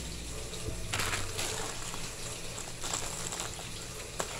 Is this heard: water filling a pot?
yes